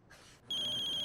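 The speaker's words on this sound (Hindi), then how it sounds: "राधिका, फोन बज रहा है आई थिंक।" Phone ringing: a clear electronic ringtone cuts in sharply after a brief muffled moment and sustains as a pulsing tone, fairly close and alone.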